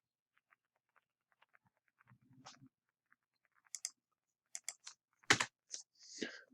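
Keystrokes on a computer keyboard, first soft and sparse, then a quick burst of louder, crisp clicks with a heavier key press in the middle, alone in a quiet room.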